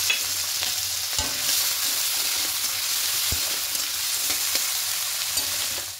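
Chopped onion and a large chopped tomato fry in a pan for an egg curry with cauliflower and potato, giving a steady, loud sizzle with a few sharp stirring knocks.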